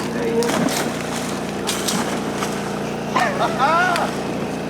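A boat motor on a river, run in bursts during bowfishing to make silver carp leap, drones steadily at close range while excited voices call out over it.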